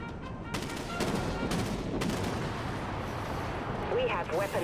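Heavy ship cannons boom in the Dreadnought space-combat game, a few loud broadband blasts in the first two seconds followed by rumbling battle noise and faint electronic chirps near the end, with no talk over it.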